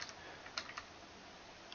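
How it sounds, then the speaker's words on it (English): Keys clatter on a computer keyboard in a few quick, close bursts of clicks with short pauses between, fairly quiet and with no one talking. "Why am I not typing right?"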